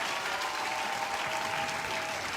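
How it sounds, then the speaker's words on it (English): An audience claps steadily and densely for the Joint Force Commander at a formal women's meeting in Kemane, a continuous close applause with no break, with a faint tonal hum running underneath. "clap for the Honorable Joint Force Commander who helped us put this together."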